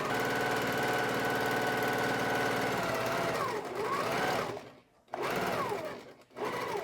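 A sewing machine back-stitches the sleeve onto a quilt, its motor running in a steady close whir that slows, pauses briefly, then starts again twice with short bursts of stitching.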